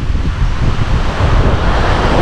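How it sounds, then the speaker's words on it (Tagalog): Dense, steady roar of heavy rain on Boracay Island, broadband and constant throughout with no breaks or voices. "Lakas na ng ulan mga tol."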